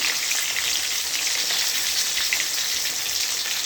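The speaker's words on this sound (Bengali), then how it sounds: "তা মাথাটা ভালো করে একটু ভেজে নিই" A rui fish head frying in a pan, a dense, loud, steady sizzle of hot oil crackling close up without pause, no voices.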